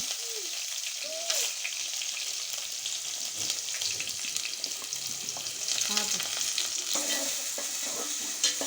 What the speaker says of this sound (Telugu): ఆనియన్స్ అయితే కొంచెం ఫ్రై అయినాయి కదండి